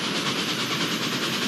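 Train rolling along the tracks in a Roblox Thomas & Friends game, a steady broadband rumble with faint rhythmic clatter, loud and continuous throughout with no talking.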